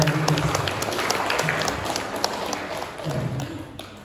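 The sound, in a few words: applause for everyone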